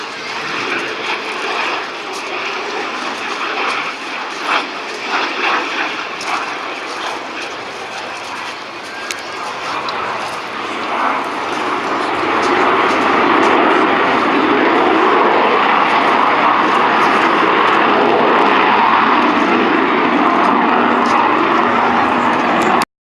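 A Vulcan bomber flies past with its landing gear down, its jet engines building from a distant rumble to a loud, sustained roar that fills the second half of the clip.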